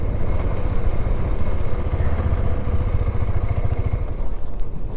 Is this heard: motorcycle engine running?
yes